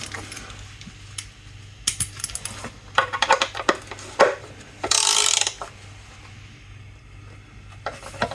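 A ratchet tightens the oil drain plug on an Audi A6 (C7), with bursts of quick metallic clicking interspersed with sharper knocks and brief pauses, close up.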